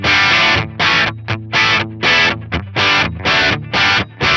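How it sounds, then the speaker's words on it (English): Electric guitar played through an Atomic Amplifire Kornfield amp model into a Marshall cab impulse response with 25-watt Greenback speakers, at stock settings: loud, distorted rock chords struck in a steady chugging rhythm with short gaps between hits. "It sounds like this at the stock settings with the Kornfield amp."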